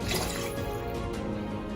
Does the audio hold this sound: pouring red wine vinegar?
yes